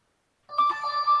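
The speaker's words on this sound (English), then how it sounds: "there goes my phone again" A mobile phone starts ringing abruptly after a moment of silence, a steady electronic ringtone with bright sustained tones heard clearly and alone.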